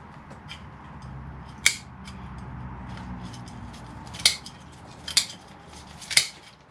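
Scissors snip through the roots of a dawn redwood bonsai during repotting: four sharp, close metallic clicks, spaced unevenly, above a low, steady background murmur.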